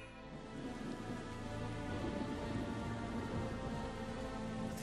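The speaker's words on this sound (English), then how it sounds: "This rain is bullshit, man. I can't see a damn thing." Steady, dense rain falls in Valkyria Chronicles 4 as an even wash of noise throughout, fairly faint with no voices.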